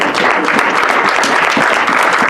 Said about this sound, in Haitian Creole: quand ils entrent dans la salle, acclamons-les, s'il vous plaît